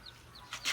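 Free-range chickens and a rooster on a Filipino poultry farm give a few faint, brief clucks and chirps, quiet and somewhat distant.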